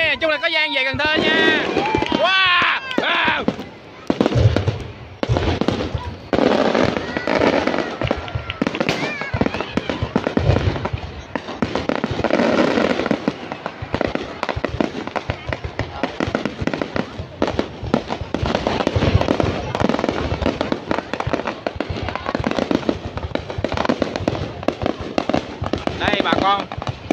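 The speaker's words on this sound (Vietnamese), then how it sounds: "Không lại tập trung vào bắn hoa." Fireworks burst continuously at a New Year show in Ha Tien, dense rapid booms and crackling firecracker-like pops filling the scene, with a crowd murmuring and people talking underneath throughout.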